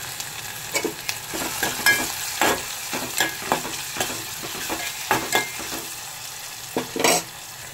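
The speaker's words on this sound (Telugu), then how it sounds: "ఇది కొంచెం బాగా ఫ్రై అయ్యి కొంచెం కరివేపాకు వేస్తున్నాను" Onions, tomato and curry leaves frying in a pan for mutton curry, a continuous sizzle punctuated by frequent close stirring scrapes and light utensil taps, no voices.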